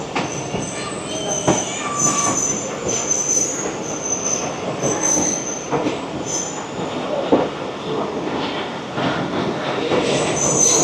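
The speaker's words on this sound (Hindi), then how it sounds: "2 मिनट के स्टॉप के बाद झेलम से सर सैयद एक्सप्रेस रवाना हो रही है।" Sir Syed Express passenger train pulling out of Jhelum station after a short stop, with steady rolling rail noise, wheel squeal and rattling carriages throughout, fairly close and continuous.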